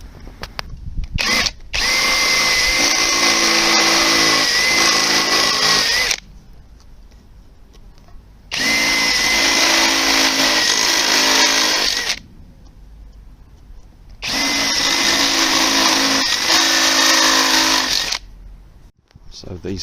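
A power drill bores new holes in the metal frame of a wind-damaged gazebo, running in three loud, steady bursts of several seconds each, separated by pauses where someone talks.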